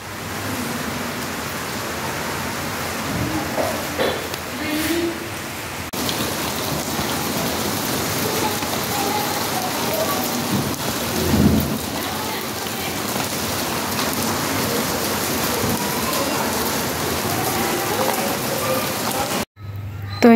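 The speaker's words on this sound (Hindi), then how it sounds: "होने लगी है बारिश" Steady rain pours down in a dense, even hiss throughout, with a brief low rumble in the middle; no distinct thunder clap stands out.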